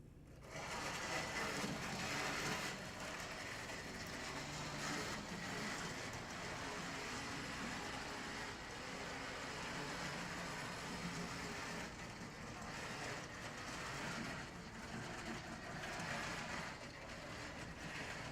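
An HO scale PFM Van Hobbies brass CNR 4-8-2 locomotive, #6060, with a model that shorts on straights and curves, runs fast along the track with a continuous faint motor whir and wheel rumble.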